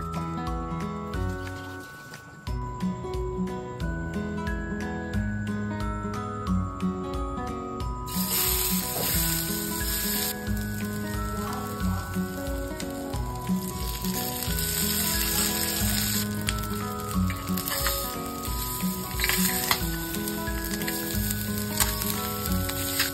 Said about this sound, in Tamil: இதை நல்லா இந்த முட்டையை வேக வச்ச முட்டையை அதுல நல்லா பெரட்டி எடுத்துட்டு நல்லா டீப் ஃப்ரை பண்ணி எடுத்துக்கோங்க